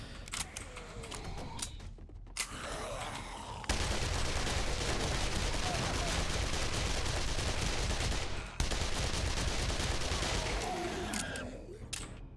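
Sustained automatic fire from weapons emptying magazines in a video game, long unbroken rattling bursts with brief pauses between them, fairly steady and close.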